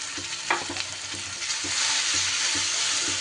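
Masala paste sizzles and crackles steadily in hot oil for a dhaba-style bhindi masala. Faint stirring knocks sound through the hiss, which swells slightly toward the end.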